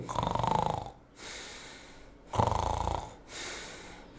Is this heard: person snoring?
yes